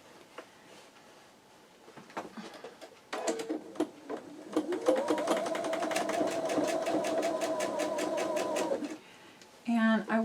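Sewing machine stitching seams on a calico cats quilt block, a steady rapid whirring run of about four seconds after a few short starts, with light handling noise before and after.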